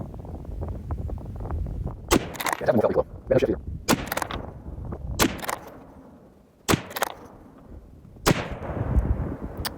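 Tikka T3X Varmint rifle fired with Sako ammunition at a range, about seven sharp loud shots spaced irregularly, with a voice between them.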